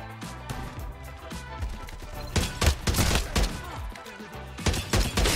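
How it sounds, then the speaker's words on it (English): Rapid gunfire in the battle royale video game Farlight 84, with repeated bursts of shots and loud cracking impacts over a busy game soundtrack, some volleys closer and louder than others. "somebody shooting at middle"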